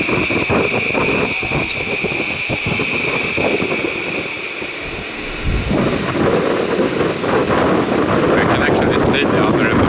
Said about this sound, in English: Holy crap, it's windy.